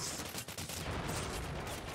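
Rapid gunfire from the video game Anabiosis: Sleep of Reason, a dense burst of repeated shots filling the whole moment at steady loudness, with no talk over it.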